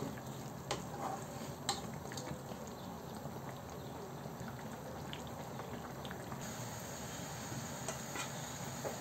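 Spinach tossed into a pan of shrimp frying for a Bengali home-cooked dish, giving a steady close sizzle with a few sharp clacks and stirring scrapes throughout.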